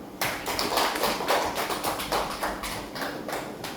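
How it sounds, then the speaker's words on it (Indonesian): Hands clapping for a participant at a school guidance-counselling training session, a steady run of sharp claps from a small group, close and fairly loud with no talk over it. "Ya, tepuk tangan buat Anda."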